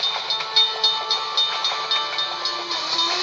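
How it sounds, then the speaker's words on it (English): A video game train in the Iron Horse app rumbles along with a steady clattering rhythm, repeating bursts that come slightly quicker over time as it speeds up, with bright hissing tones above. "The train is going faster."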